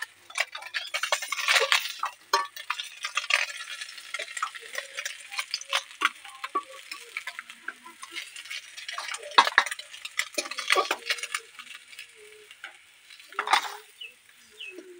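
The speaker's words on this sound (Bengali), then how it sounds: "আর তারপর নেড়ে ছেড়ে দিচ্ছি, লাল লাল হয়ে যাচ্ছে।" Fish frying in a small amount of oil in a pan is stirred, giving a steady soft sizzle broken by frequent scraping clinks of the spatula against the metal, with louder bursts of scraping and crackle near the start and end.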